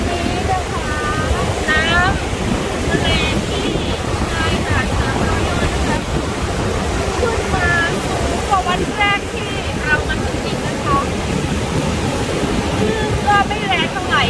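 Strong wind buffets the microphone at Sam Roi Yot beach, Pranburi, while sea waves wash and roar continuously underneath, loud and steady throughout, with bursts of a distant voice.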